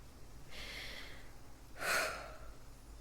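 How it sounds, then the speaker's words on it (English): A character breathes quietly and close in The Walking Dead: The Final Season: a soft inhaled gasp, then a louder, sharper breath with a sniffing edge, over a faint background. "I can hear her breathing in my ears"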